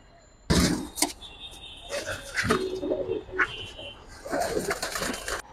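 Old-breed giribaz pigeons coo softly in repeated low bursts, close by, mixed with rustling, handling noises and occasional muffled voices.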